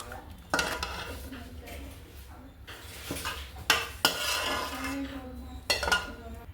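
Metal pots and serving utensils clank and scrape as freshly cooked puli kulambu, a tamarind curry with bitter gourd and okra, is moved off the switched-off stove into another vessel, with several sharp knocks over a soft background hum.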